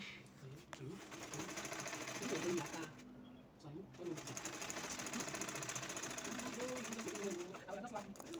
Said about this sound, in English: So I'm going ahead to sew like so